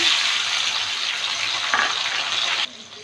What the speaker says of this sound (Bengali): দুটো কাঁচা লঙ্কা দিলাম একটু ভেজে নিলাম একটা টমেটো কুচি দিলাম